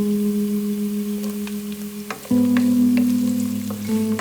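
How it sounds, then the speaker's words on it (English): Chilli and ginger fry in a pan with a soft crackling sizzle over a steady low tonal hum that jumps louder midway, with scattered sharp pops and clicks from stirring; no talk. "After 1 minute fry the ginger, then I'm going to add the chilli."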